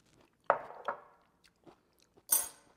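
Crisp bites into pieces of bell pepper dipped in cheese fondue sauce, a loud crunch followed by a second bite, then soft, sparse chewing and a final sharp crunch, close to the mouth and otherwise quiet.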